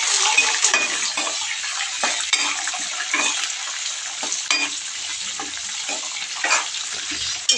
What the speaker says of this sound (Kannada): ಹಸಿಮೆಣಸಿನ್ಕಾಯಿ ಹಾಕ್ತಾಯಿದ್ದೀನಿ.